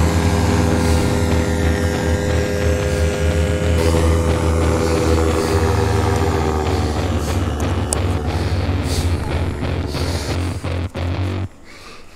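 A propeller aircraft engine runs loud and steady at close range with a strong low drone, then cuts off abruptly near the end, leaving quiet.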